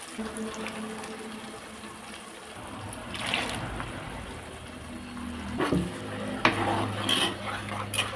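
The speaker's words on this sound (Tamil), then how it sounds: "தண்ணி ஊற்றி அலசி விட்டுக்கலாம்" Water is poured into a pan of ground masala for kulambu and stirred, giving soft trickling and sloshing with a few clinks of a utensil against the pan, fairly quiet and close.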